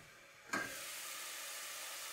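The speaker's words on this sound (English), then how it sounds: "is some sauteed mushrooms" Mushrooms sauteing in a pan for a stew, a sudden loud sizzle bursting in at once and then settling into a steady, close frying hiss that carries on without any talk.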